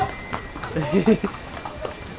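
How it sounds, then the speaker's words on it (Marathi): Horses carrying riders on the mountain trek route to Yamunotri, hooves clip-clopping in a few scattered steps, fairly near, with some background talk. "हे आमचे मेंबर आहेत आणि घोड्यावर बसून चाललेले आहेत"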